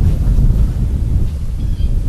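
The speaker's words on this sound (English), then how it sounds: "You can hear the wind, I'm sure." Strong wind blows across a microphone outdoors on a chilly early-spring day, a steady low rumbling roar with no voices.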